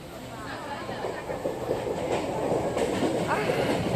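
Passenger train running on rails, heard from inside a crowded carriage: a steady, loud rumble and rattle of wheels with faint clatter throughout, and indistinct voices of passengers underneath.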